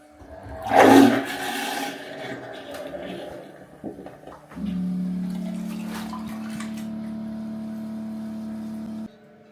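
A marine toilet on a boat flushes with a sudden gushing rush of water, then a steady pump motor hums for several seconds refilling the bowl before stopping abruptly.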